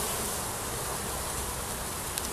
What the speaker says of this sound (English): This is a box of bees.